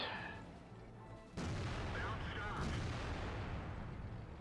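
A single heavy tank cannon shot striking and bouncing off an IS-4 in World of Tanks, a sharp loud boom followed by a lingering rumble and ringing metallic tail.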